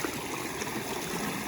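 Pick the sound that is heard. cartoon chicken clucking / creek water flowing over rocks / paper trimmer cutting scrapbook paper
creek water flowing over rocks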